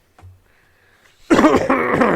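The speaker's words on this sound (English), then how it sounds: "Let me clear my throat." After a faint bump and near silence, a person loudly clears their throat with a rough, rasping, drawn-out sound close up.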